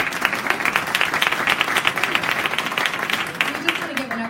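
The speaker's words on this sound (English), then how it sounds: "We just want to give another round of applause to Patrice." Audience at a Black History celebration clapping in a steady, dense round of applause, with a few voices murmuring underneath and the clapping thinning slightly at the close.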